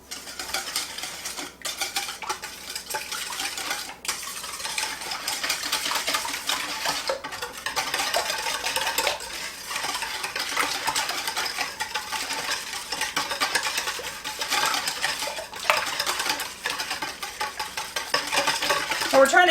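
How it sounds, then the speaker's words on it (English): Eggs, sugar, vanilla and lemon zest for a lemon curd pound cake being whisked in a bowl, a steady, continuous scraping and tapping of the whisk against the bowl, close up and busy throughout. "we're going to whisk all of that together"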